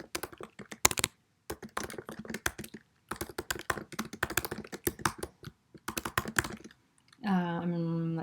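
Brisk computer keyboard typing in irregular bursts of clattering keystrokes with short pauses, ending with a voice murmuring over it.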